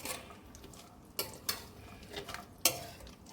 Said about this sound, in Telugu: ఇవి బాగా వేపుకోవాలండి, డ్రై అయ్యే వరకు నెయ్యిలోనే వేపుకోవాలి